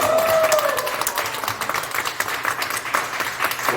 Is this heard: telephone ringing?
no